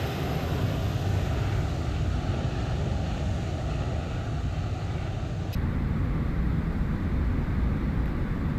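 An airliner in the X-Plane 12 flight simulator, a Toliss A321 freighter, roars past in a flyby, a steady broad engine rush that holds loud throughout with a slight shift midway.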